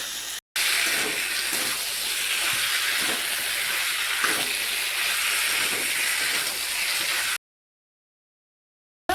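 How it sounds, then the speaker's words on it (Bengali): Pre-fried vegetables sautéed with spices in a pan for a Bengali moringa (sajne data) curry, a constant loud sizzling hiss with occasional soft stirring scrapes, cut off abruptly near the end. "ভেজে রাখা সবজিগুলো কিছুক্ষণ ভালোভাবে কষে নিতে হবে এবং সবজির মধ্যে সব মশলাটা"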